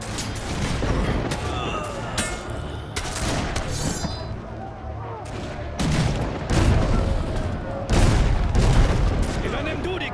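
Ship cannons firing in Risen 3, a run of heavy booms and bursts of shots at irregular intervals, loud and close, with voices talking between them.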